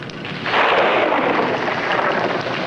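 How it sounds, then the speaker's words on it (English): Thunder from an approaching storm builds into a loud, sustained rumble that swells after a brief quieter start and keeps rolling steadily, with no talking. "Oh, it looks like we're in for a real storm."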